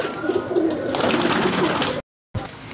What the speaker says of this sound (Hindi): कबूतर देख के ना मुझे डर गए हैं सारे, ऊपर भाग गए हैं